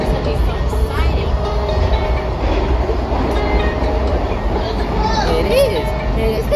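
A train running through a tunnel on the Washington Metro, with a steady low rumble and continuous mechanical rattle throughout, high squeals and whines sliding over it, and voices in the background.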